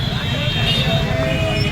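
Dense Mathura street traffic heard from inside a moving rickshaw, a steady engine and road rumble with a murmur of voices and vehicles blending into one continuous din.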